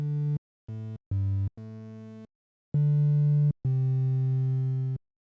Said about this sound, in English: I get this sine type waveform.